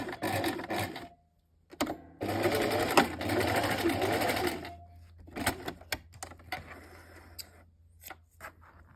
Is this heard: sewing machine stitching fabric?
yes